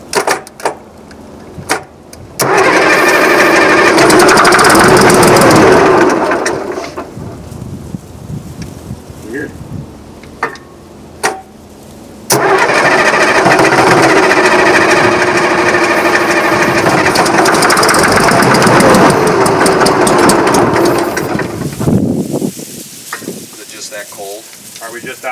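Case 1150 dozer engine cranking at half throttle on starting fluid, two long loud grinding, churning bursts of starter and engine noise separated by a pause, with people talking nearby.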